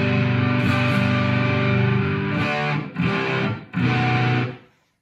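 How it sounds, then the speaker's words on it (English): Electric guitar played through a dark overdrive distortion with a treble booster, emulating a saturated amp: thick sustained chords ringing loud, then two short choppy strummed bursts with brief gaps, ending on a held chord that fades out. "now I'm going to turn on a really dark sounding overdrive distortion to simulate a saturated amp"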